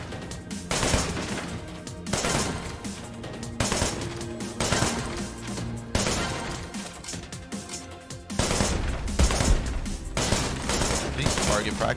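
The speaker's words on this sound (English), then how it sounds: "So this is one of the mini games. You just shoot targets." Rapid gunfire from target shooting in the Wanted: Dead video game's score-attack mini game, dense repeated bursts running nearly continuously and loudly over a music-like backdrop with brief pauses.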